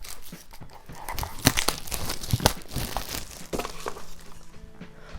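Plastic wrapping is crinkled and torn off a book, with a run of close, sharp crackling bursts and tearing rips that grow quieter toward the end.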